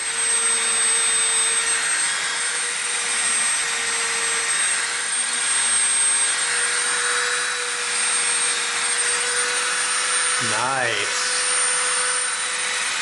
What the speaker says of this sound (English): We're going to take our Dremel and we're going to make rivet marks in all these corners.